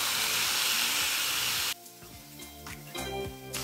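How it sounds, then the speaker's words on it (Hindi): Potatoes and peas dropped into hot oil for sautéing, with a loud hissing spray of sizzle for the first half, then a quieter crackling fry with clatter of a spoon stirring the pan. "अब इसमें ये आलू और मटर ऐड करके ना मैं इसे सौते कर लूंगी 3 से 4 मिनट के लिए"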